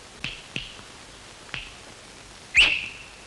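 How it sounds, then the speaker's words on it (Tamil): A man whistles in a Tamil comedy film scene: a few short sharp chirps and then a louder, rising whistle, heard alone in a quiet room. "என்ன விசில் அடிக்கிற?"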